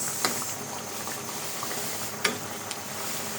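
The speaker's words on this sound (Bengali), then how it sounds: "মটরশুঁটি আর হইল টমেটো দিয়ে কাতলা মাছ রান্না করতেছি" Catla fish with peas and tomato cooks in a pan, giving a continuous close sizzle and bubbling with a couple of sharp pops or spoon clicks, alone and without voices.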